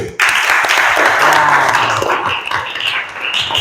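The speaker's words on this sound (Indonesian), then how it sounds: "Tepuk tangan untuk kelompok 1." Classmates applaud group 1 in a classroom, a burst of clapping that starts abruptly, holds loud and even for a few seconds, then thins out with some voices mixed in.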